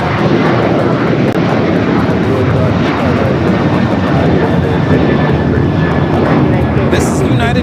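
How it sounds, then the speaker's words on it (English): A United Airlines Boeing 737-800 takes off from LAX, its engines a loud, sustained roar that stays steady throughout, close by and dominating the scene. "This is United Airlines 1260 taking off to Columbus, Ohio on the 737-800"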